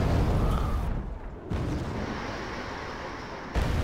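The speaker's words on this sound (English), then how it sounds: "That's their artillery." Distant artillery barrage in the real-time strategy game Wargame: Airland Battle, a continuous dense rumble of booms with a brief dip midway and a renewed swell near the end.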